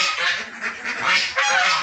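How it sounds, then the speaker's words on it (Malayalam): A batch of egg-laying domestic ducks crowds a shed on a mixed farm, giving loud, nasal honking quacks in several overlapping bursts close by. "ഈ ഒരു ഷെഡിൽ കിടക്കുന്നത് ഒരു ബാച്ച് താറാവുകളാണ് മുട്ട ഇട്ടുകൊണ്ടിരിക്കുന്ന താറാവുകളാണ്"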